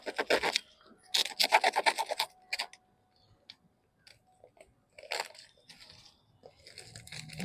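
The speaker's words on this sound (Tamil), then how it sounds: "இந்த க்ரோ பேக்கை அறுத்து எடுத்துடலாம்." Plastic grow bag being cut open around a banana plant on a terrace garden, heard as several bursts of crinkling, rasping plastic with pauses between, close and fairly loud.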